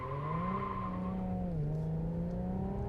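A 2019 Infiniti Q60 3.0T with a twin-turbo V6 pulls hard in sport mode, its engine note climbing steadily, dipping briefly at a gear change, then rising again, loud and continuous from inside the cabin.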